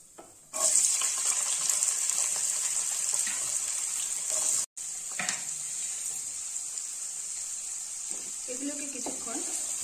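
Chopped vegetables are added to hot oil tempered with whole cumin and fry with a loud, steady sizzle that starts abruptly, cuts out for an instant midway, then continues; faint stirring clatters in the background.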